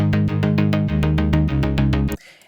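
Synth pluck layered with a bass pluck, playing a steady run of about a dozen even, bright plucked notes over a sustained low end before cutting off abruptly.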